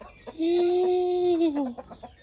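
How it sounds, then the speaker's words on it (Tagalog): A single drawn-out hen call rising and falling, close and clear, followed by a few soft clucks. "Para magsitigil itong mga manok na ito."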